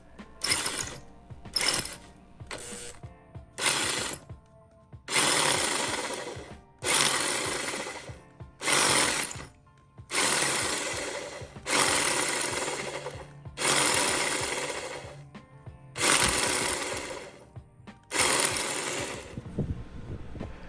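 A drill bores a new, centered hole into a stuck wheel lug stud, running in repeated loud bursts of one to two seconds separated by short pauses, with a rough grinding whine and no talk.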